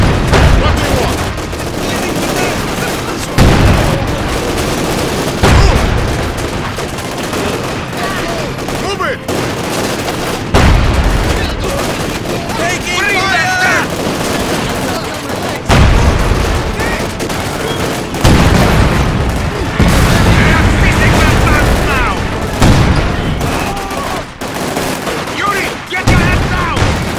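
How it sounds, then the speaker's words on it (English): Gunfire and explosions from Company of Heroes 2 combat: repeated loud booms cut through bursts of rifle and machine-gun fire, with shouting voices mixed in throughout. "Those Schweinhunde are shooting at us!"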